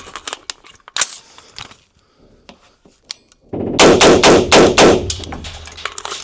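Colt IAR rifle with a Magpul magazine fires outdoors, first a few scattered shots with metallic handling clicks, then a loud close rapid burst of automatic fire.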